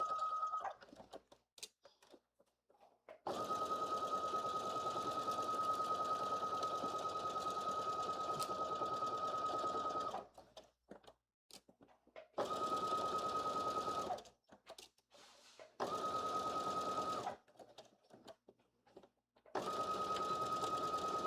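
A sewing machine stitches a blazer sleeve seam in several steady bursts, a fast even whir with short pauses between runs, close and alone.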